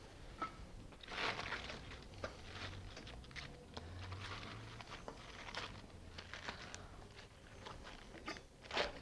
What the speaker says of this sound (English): Let's slice the salad. We're just going to slice it roughly.